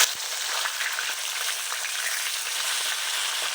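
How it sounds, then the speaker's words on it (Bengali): Steady, loud sizzling of catla fish frying in hot oil, a dense crackling hiss with occasional pops, continuous throughout. "মাছগুলো ভালো করে ভেজে নেব।"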